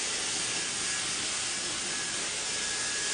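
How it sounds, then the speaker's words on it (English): Gold Lust Dry Heat Protection Spray mists onto hair in one steady, close hiss lasting about three seconds, with no talk over it. "I'm going to be using the Gold Lust Dry Heat Protection Spray."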